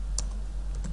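A few quick computer keyboard keystrokes, two or three soft clicks close by in a quiet room, brief and isolated.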